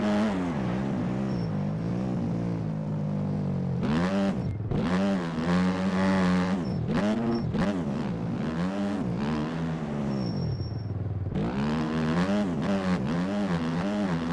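A motocross bike engine in MX Bikes screams through a lap, revving hard and rising and falling in pitch with each gear change and throttle cut, loud and close with no talk.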